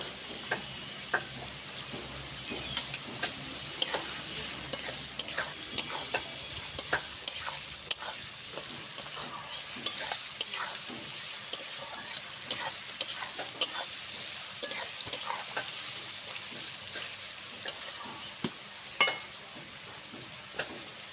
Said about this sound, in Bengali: গাজরটা আমি ভেজে নিয়েছি